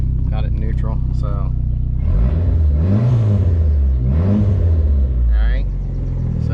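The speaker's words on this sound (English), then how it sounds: "so blue car, we are revving it" A car engine idles low in neutral, then revs up twice in rising and falling swells before settling back, loud and close, with brief voices at the start and end.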